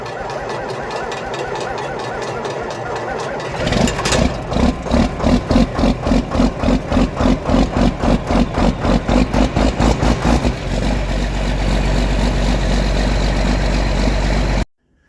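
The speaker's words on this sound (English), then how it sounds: "Nobody likes a cold start." A car engine cold-starts and settles into a loud, rough idle with a fast rhythmic knocking pulse, then smooths into a steadier drone before cutting off abruptly.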